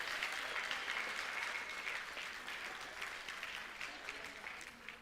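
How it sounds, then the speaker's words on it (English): A crowd at the Local Heroes Awards 2023 ceremony applauds twelve local heroes, steady dense clapping that holds strong and then thins slightly toward the end. "A round of applause for our 12 local heroes"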